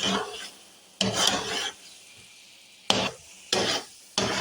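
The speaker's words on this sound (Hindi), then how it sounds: "अब आप देख सकते हैं कि जैसे जैसे चमचा मैं हलवे पे चला रही हूँ" A spoon scrapes and stirs thick egg halwa in a pot as it roasts, in several close, rasping bursts separated by quieter pauses.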